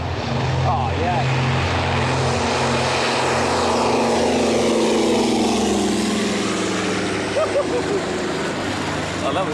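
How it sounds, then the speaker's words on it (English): Bomber propeller plane engines roar steadily and loud through a takeoff run, a continuous droning rumble with a slowly shifting pitch and no talk over it. "Doesn't it sound brilliant, that plane?"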